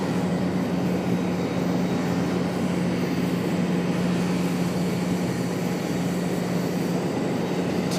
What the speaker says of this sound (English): American Airlines 2085 coming in from Bermuda. An A319